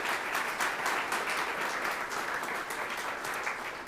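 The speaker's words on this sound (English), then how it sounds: "let's give them a round of applause" Audience applause fills a civic hall at a mayoral state-of-the-city address, a dense, steady wash of many hands clapping at even loudness throughout, with no break.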